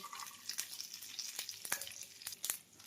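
Soft, steady sizzling of peanuts, curry leaves and garlic cloves frying in a pan, with a few sharp clicks and pops scattered throughout.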